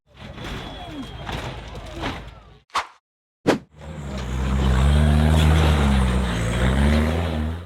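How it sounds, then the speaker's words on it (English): An off-road 4x4 buggy engine roars and revs hard as it climbs a rugged rocky dirt hill, loud and close after a few sharp knocks and brief bursts, with a rumbling low drone building into a sustained growl. "vehicle roared to life, belching smoke as it climbed a rugged dirt hill"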